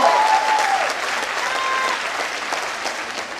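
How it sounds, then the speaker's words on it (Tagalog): An audience at a provincial singing contest's grand opening at a capitol breaks into loud, sustained applause, a dense wash of clapping that slowly eases off. "Isang malakas na palakpak para alam ko kung approve sa inyo ito."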